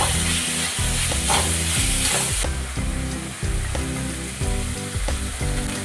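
Vegetables sizzle loudly in a pan with red and green chilli sauces for fried rice, a dense constant frying hiss under rhythmic clanks and scrapes of a spoon stirring throughout, close and with no talking.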